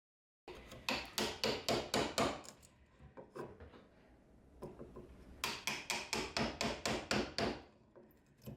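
A mallet strikes a Japanese chisel cutting into wood: a rapid burst of sharp, close knocks, a stretch of lighter scattered taps, then another even run of strong blows.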